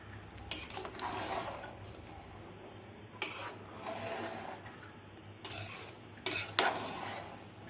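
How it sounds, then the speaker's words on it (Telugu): A ladle scrapes and clatters against a pot as fried chicken pieces are mixed into half-cooked rice for a home-style chicken fry piece biryani, with a few louder scrapes over a steady low background hum and no talking. "సగం ఉడికిన అన్నంలో ఆ ఫ్రై పీసులు వేసుకుని బాగా కలుపుకోవాలి"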